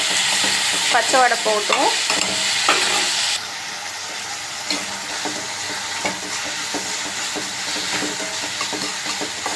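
Four tomatoes sizzle and fry in a pan for a Tamil-style fish curry, with steady hissing and intermittent scraping strokes of a stirring spoon, close up, and a voice speaking briefly near the start.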